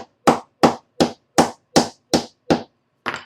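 A small 5-ounce hammer strikes a wooden dowel seven times in an even rhythm, sharp close taps denting the wood, followed by one softer, rattly hit after a pause.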